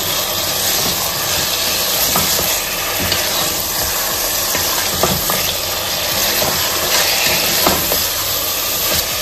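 Mutton pieces sizzle loudly in a hot kadai while being stirred, a steady dense frying hiss with scattered scraping clicks of the spoon, close and continuous with no talking.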